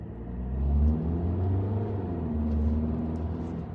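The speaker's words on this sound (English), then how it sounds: "what I don't quite appreciate is this diesel loudness." A 2025 Audi Q3 Urban Edition diesel accelerates from inside the cabin, giving a loud, low droning engine rumble whose pitch rises steadily with no talking.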